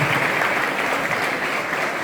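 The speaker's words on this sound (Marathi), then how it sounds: "तुम्ही पुन्हा एकदा जोरदार टाळ्या वाजवून सरांचं स्वागत करावं अशी विनंती करतो" An audience at an educational lecture event claps loudly and steadily in a dense, continuous burst of applause that fills the whole moment.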